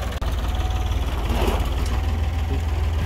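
A farm tractor engine idles steadily during a soybean harvest, giving a continuous low rumble with a slight knocking texture that sounds close and fairly loud, with no voices.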